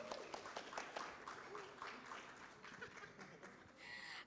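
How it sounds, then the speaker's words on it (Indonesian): An audience at a symposium session applauds three panelists, a moderate spread of clapping mixed with a few chuckles and murmurs, fairly quiet and distant overall. "beri tepuk tangan dahulu kepada 3 panelis kita hari ini"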